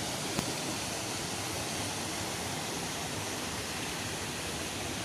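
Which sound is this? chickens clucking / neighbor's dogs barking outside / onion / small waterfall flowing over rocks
small waterfall flowing over rocks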